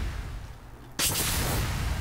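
A loud burst of gunfire in modded Minecraft, shot through a wall, erupts suddenly after a quiet moment and then sustains as a dense, noisy roar.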